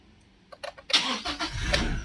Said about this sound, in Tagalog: Switch ko yung makina para testingin natin.